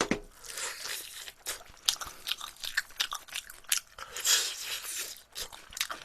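Close crunchy bites and chewing on a fried chicken wing from Cheogajip supreme yangnyeom chicken, repeated crisp crackles and wet mouth sounds at an uneven pace, no talking.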